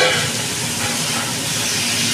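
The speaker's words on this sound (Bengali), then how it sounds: "এবার আমি চিকেনটাকে কষতে রাখবো" Marinated chicken dumped into a hot pan with biryani spices hisses loudly and steadily, a dense, close, unbroken sizzle with no talk.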